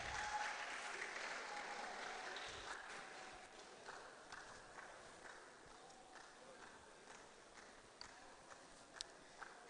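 An audience at a mental health symposium claps steadily, the applause loud at first and slowly thinning into scattered claps.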